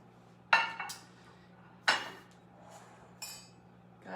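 Meat mixture spooned into a medium-sized baking dish, with three separate sharp clinks of a utensil against the dish spaced about a second apart over a faint low hum.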